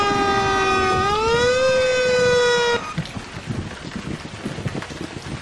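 A loud fire engine siren from the Emergency 4 video game, with the Camden County mod, wails and rises, then cuts off abruptly, leaving a rain-like hiss and scattered patter.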